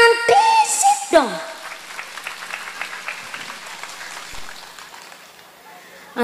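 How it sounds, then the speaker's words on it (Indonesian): Brief a voice rings out first, then a light scattered clapping from an audience at a humorous Islamic sermon gathering follows, faint and thinning out over several seconds. "Tepuk tangan disit dong."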